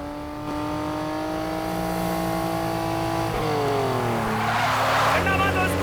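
A car in a dubbed action movie chase speeds hard with a high, steady engine whine, then the pitch dips and the tires squeal into a skid, loud and close throughout.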